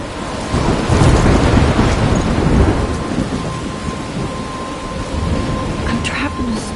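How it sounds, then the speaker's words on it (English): Thunderstorm with heavy rain in the video game Life is Strange: dense, loud, continuous downpour hiss with low rolling thunder rumbles, steady throughout with no speech. "I'm trapped in a storm?"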